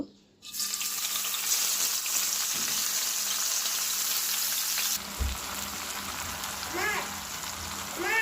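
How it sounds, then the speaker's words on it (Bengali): Two handfuls of onions drop into hot oil, setting off a sudden loud, dense sizzle that holds steady before easing slightly, with a brief clunk and a few faint voice-like sounds near the end. "এই তেলের মধ্যে আমি দুই মুষ্টি সমান পেঁয়াজ দিয়ে দেব"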